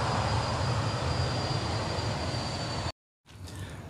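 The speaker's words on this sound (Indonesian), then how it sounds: "barusan itu adalah kereta api luar biasa atau KLB uji coba yang melayani rute dari Lempuyangan ke Solo Balapan" A special test train running from Lempuyangan to Solo Balapan rushes past at an old station near the airport, a loud steady roar with a faint whine, then a brief cut to silence before the noise resumes.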